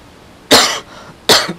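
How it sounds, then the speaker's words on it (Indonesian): Two sharp coughs from a man giving a religious talk, loud and close, separated by a short pause in a quiet room. "maaf nih kok jadi batuk"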